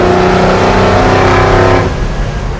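A 500-horsepower V8 in a restomod 1959 Chevrolet Apache work truck roars under hard throttle, a loud, dense growl that holds steady for nearly two seconds and then drops away as the revs fall.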